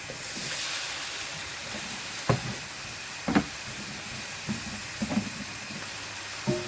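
Tomatoes go into a sizzling pan, setting off a continuous hiss of frying with a few soft knocks and splatters scattered through it. No voices are heard.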